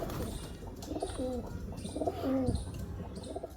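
Pigeons coo softly in a few low, rolling calls, with faint chirps and background noise around them.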